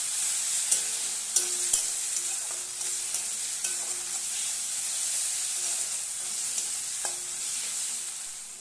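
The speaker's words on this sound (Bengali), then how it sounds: "দিয়ে দিচ্ছি একটু চিনি, আবার একটু ভালো করে কষিয়ে নেব।" Spice paste with peas and sugar sautéing for ghugni, a constant close sizzle punctuated by repeated knocks and scrapes of a spatula against the pan.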